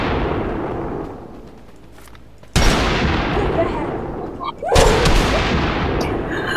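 Two loud, booming shots from a scopeless, heavy-recoil sniper rifle in Totally Accurate Battlegrounds, each a sudden close crack with a long rumbling tail, a couple of seconds apart.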